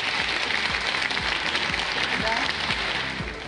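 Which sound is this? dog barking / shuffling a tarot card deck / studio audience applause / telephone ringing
studio audience applause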